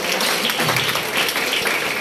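Loud, dense clapping from an audience at a doctorate degree award ceremony, a continuous wash of hands filling the whole short stretch without pause.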